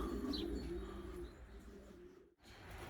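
Pigeons coo softly while young pigeons land at feed, with a few chirpy calls and low murmuring coos at moderate distance, no voices.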